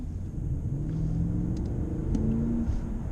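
A 2007 Mercedes-Benz CL550 accelerating on kickdown from well below the limit, heard from inside as a deep steady engine rumble with a rising tone, loud and continuous.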